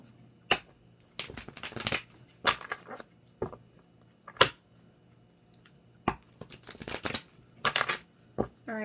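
Tarot cards are shuffled in quick, crisp riffles and taps, several separate bursts with short quiet gaps between them, close up and fairly soft.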